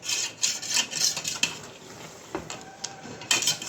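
Goat head curry with ginger being sautéed in a pan, with repeated close rasping scrapes and stirring strokes over a steady sizzle in an uneven rhythm, no talk.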